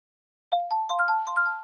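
A phone ringing in the video game Ten Dates: a bright electronic ringtone starts after a short silence and repeats in quick melodic chimes, clear and alone.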